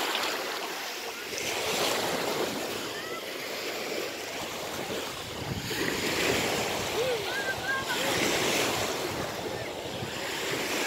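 Sea waves wash onto the shore at Olympia, Greece, a continuous surging rush with gentle swells, mixed with wind buffeting the microphone and faint background voices.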